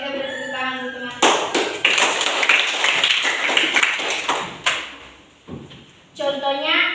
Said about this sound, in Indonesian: kita beri tepuk tangan untuk teman